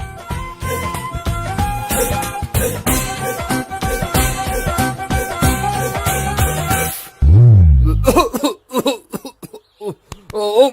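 Loud music plays, then cuts off for a sudden, close, harsh cough followed by a few more broken coughs.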